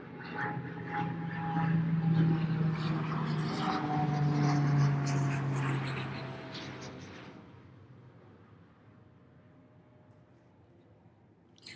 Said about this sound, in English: That plane is flying hella low.